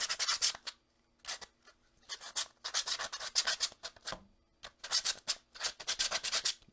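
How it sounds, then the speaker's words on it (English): Finer-grit sandpaper rubs back and forth across a surface in close, rhythmic scratchy strokes, coming in bursts with brief pauses and no talking. "going back in with the higher grit sandpaper, a finer grit"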